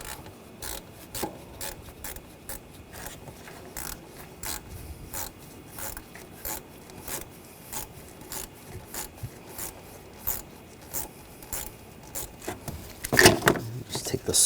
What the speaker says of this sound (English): Using a 7mm socket, loosen up this clamp right here.